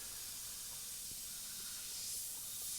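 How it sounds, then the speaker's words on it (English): A GSI Krios PS770 airbrush with a 0.18mm needle and nozzle sprays thinned paint onto a skull in a steady, soft, close hiss lasting the whole few seconds. "the airbrush that I'm using here is the GSI Krios"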